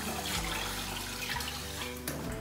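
Tap water runs steadily into a sink while mung beans are rinsed, a continuous close splashing rush with shifting gurgles and no talking.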